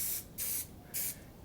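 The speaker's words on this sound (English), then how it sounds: "we're just going to spray some paint" Spray paint can sprayed onto a canvas in short bursts, three to four close, bright hissing blasts with brief pauses between them.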